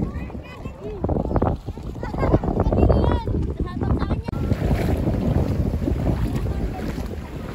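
Wind buffets the microphone while a small outrigger boat moves through water in Anda, Pangasinan. Voices talk loudly over the rushing, blustery noise.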